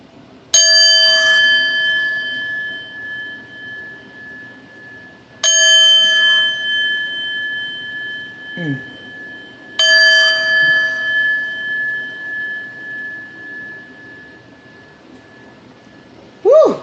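A bell rings out in three clear struck chimes, each tone ringing on and slowly fading before the next, loud and alone with only a faint voice-like sound in the gaps.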